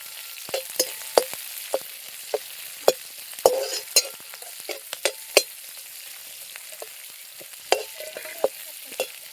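Onion, garlic, green chili and capsicum sauté in a wok for cabbage manchurian, a soft steady sizzle punctuated by irregular sharp clinks and scrapes of a spatula stirring against the pan, close and without talk.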